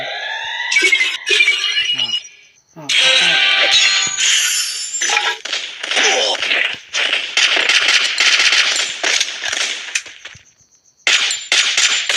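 Rapid bursts of automatic gunfire from the battle royale video game Free Fire MAX, loud and close, come in several long rattling volleys split by short gaps, with sharp metallic clinks and a high tone sounding between them.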